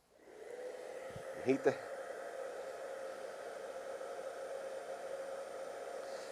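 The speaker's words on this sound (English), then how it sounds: "Just take a good hair dryer," A hair dryer warming a holster's trigger guard area whirs steadily at close range, a continuous airy blowing hum, with a couple of brief handling bumps near the start.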